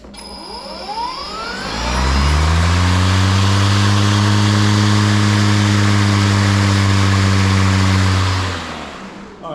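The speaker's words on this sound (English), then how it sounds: "So let's get the mower going." A Kobalt 40V MAX battery-powered lawn mower spins up with a rising whine, holds a loud, steady motor hum of about 80 to 85 decibels for several seconds, then winds down.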